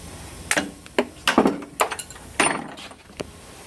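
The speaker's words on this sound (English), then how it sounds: "I should just be able to tap on it with a hammer" Hammer tapping on a hydraulic cylinder during seal replacement, about ten sharp metallic knocks in an uneven rhythm, close and fairly loud, with no talking.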